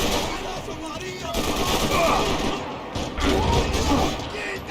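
Rapid bursts of gunfire from the video game Max Payne 3 fill the whole stretch, dense and loud, with overlapping shots and a busy combat mix throughout.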